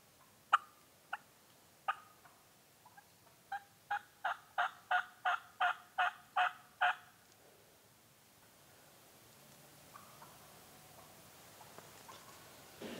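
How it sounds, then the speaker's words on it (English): Wild turkeys gobble at first light in foggy woods, a few scattered gobbles followed by a rapid series of about ten loud, rhythmic calls, then faint distant gobbles amid quiet rustling. "Heard turkeys right at first light."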